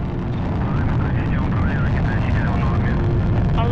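The first stage of a Soyuz-U rocket roars at launch with a dense, continuous rumble, while a voice talks over it throughout.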